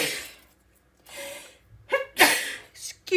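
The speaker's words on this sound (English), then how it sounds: "I'm going to sneeze." A person sneezes, with a couple of sharp breathy intakes and gasps building up before a forceful, close sneeze burst, then a final short snort.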